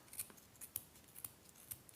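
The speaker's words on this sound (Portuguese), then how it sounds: "Vou pegar uma tesoura mais grosseira e vou cortar." Coarse scissors snip through crochet yarn on a baby cardigan, giving four or five crisp, quiet cuts at a steady unhurried pace, each one short and sharp.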